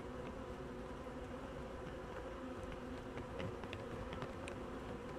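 Honeybees buzz inside a hive in the evening, a dense, steady drone holding at an even level throughout with no voices over it.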